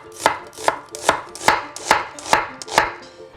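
A knife slicing through food on a cutting board at an angle, seven crisp, evenly spaced chops in a steady rhythm, close and clear with no talking.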